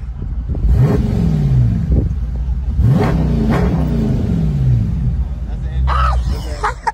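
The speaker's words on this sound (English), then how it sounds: "Let's rev that shit real quick." A car engine revs up sharply several times, each rev rising and then falling back to a rumbling idle, with people talking nearby.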